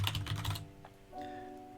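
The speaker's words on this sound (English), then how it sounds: "I'm just typing in 4K music plays or 4K fireplace." Quick bursts of typing on a computer keyboard, five or six close key clicks in a fast cluster followed by a quieter stretch with faint background tones.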